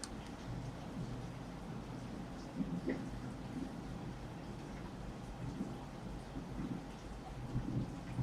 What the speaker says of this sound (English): The sound of the rain is diminishing